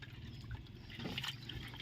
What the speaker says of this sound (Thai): ไปน้ำ เด็ดน้ำแล้วนะจ๊ะเนาะ เทลงน เทน้ำออก